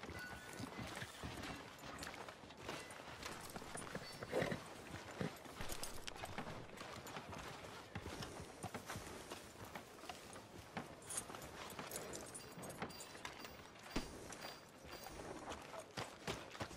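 Horse hooves clip-clop in Red Dead Redemption 2 as a horse is ridden through a town street toward a hitching post, an uneven run of quiet hoofbeats with faint game ambience beneath.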